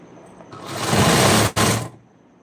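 Sewing machine stitching in a tailoring setting, one loud continuous run of about a second and a half with a brief break near the end, close by, with no talk.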